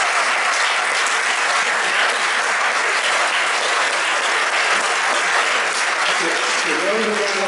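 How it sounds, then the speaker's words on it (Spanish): Loud, sustained audience applause at a film colloquium with a film director, dense continuous clapping filling the room from start to finish, with a brief voice near the end. "te has ganado un aplauso bastante importante"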